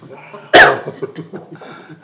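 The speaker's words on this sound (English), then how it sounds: "I did, I coughed" A single sharp cough bursts out near the microphone in a meeting room during an advisory board session. Quiet murmuring and low voices carry on before and after it.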